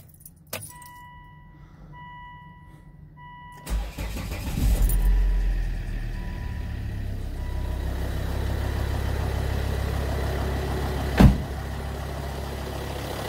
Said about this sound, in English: As you can see right now, the engine is idling